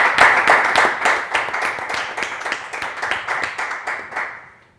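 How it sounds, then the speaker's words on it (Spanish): Supporters at a political party youth meeting in Asturias give a round of applause, loud, close rhythmic clapping in steady beats for several seconds before fading out at the end. "un aplauso para verlo"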